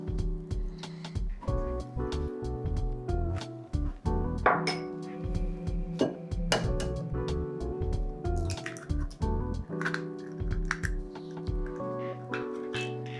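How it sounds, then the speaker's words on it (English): Milk, vanilla and an egg poured into cookie dough for Christmas cookies, giving close, repeated drips, splashes and light clinks of a bowl and utensils, with soft thuds throughout and no talking. "I'm going to add the milk and vanilla."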